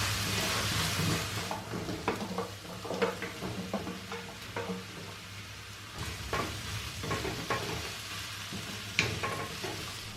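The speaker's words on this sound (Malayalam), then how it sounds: "തീ ഒരു മീഡിയം ഫ്ലെയിമിലാക്കിയിട്ടാണ് സവോള വഴറ്റിയെടുക്കുന്നത്." Onions sautéing over a medium flame in a pan for a Kerala-style beef stew, a steady close sizzle with intermittent scraping stirs and a few utensil clicks, no voices.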